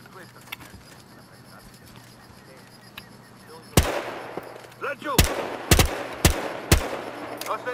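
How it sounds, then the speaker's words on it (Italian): Gunfire in the video game Battlefield Hardline, a sudden loud shot followed by several more sharp bangs in an irregular volley over a low background hum. "Ho sentito degli spari."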